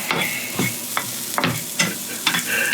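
Leftover shallots fry in a pan, a close sizzle broken by several sharp scraping stirs that come at a roughly regular rhythm.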